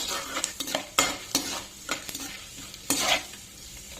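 Mustard and other tempering seeds spluttering in hot oil in a pan for okra fry, a steady crackle broken by repeated scraping stir strokes, close by with no talking.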